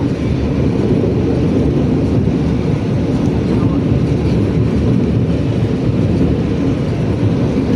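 Steady, loud rumble of the KA Batavia train running from Gambir to Jogja, continuous wheel and carriage noise heard from inside a coach with no break in level.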